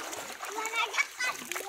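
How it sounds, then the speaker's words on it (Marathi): Water sprayed from a garden hose splashes onto people in short bursts of spatter, close by, with children's voices and chatter running throughout. "मी तुमच्या अंगावर पाणी मारतो"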